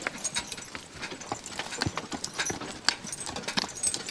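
Draft horses being driven at a walk, hooves clip-clopping in a steady irregular rhythm close by, with light jingling of harness and no talking.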